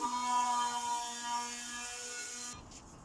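An electric multi-tool sanding an aluminium sheet motorcycle side panel, a steady high-pitched whine that runs for about two and a half seconds and then cuts off abruptly, fairly quiet.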